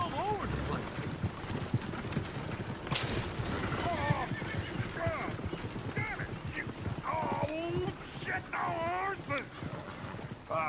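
Horse hooves clip-clop in Red Dead Redemption 2, a steady rhythmic clatter running under almost constant talking and game voices, with a possible brief whinny partway through.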